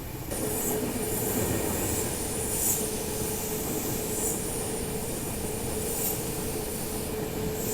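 A Rajdhani express train rushes past on the opposite track, a loud continuous rumble of wagons and wheels with high steady squeal and faint rhythmic clatter, heard close from aboard another train.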